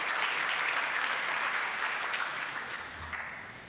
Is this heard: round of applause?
yes